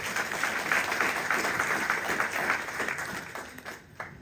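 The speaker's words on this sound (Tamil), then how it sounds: "ஒரு கரகோஷத்தை எதிர்பார்க்கின்றோம்." Audience applause at a London celebration marking K Balendra's fifty years as a theatre director, a dense sustained clapping that holds steady and then tapers off near the end.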